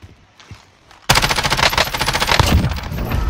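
Rapid automatic gunfire in the video game Call of Duty Warzone, a loud sustained burst of close machine-gun shots that erupts suddenly after a quieter moment and continues in a fast steady rattle.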